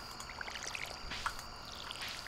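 Water pouring from a watering can onto crops in the Stardew Valley farming game: a short, soft splashing trickle with light chiming game effects over a quiet background.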